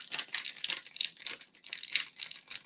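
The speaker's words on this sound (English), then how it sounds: "Or maybe you have a plastic water bottle like this that you could crumple." Plastic water bottle crumpled by hand, a run of close, crisp crackling crinkles in quick irregular bursts, with no talking.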